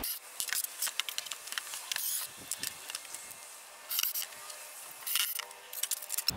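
Screws being backed out of a wooden form for an aircrete rocket stove, giving close, quiet clicks, rattles and scraping in scattered bursts, with brief louder ticks and no talk.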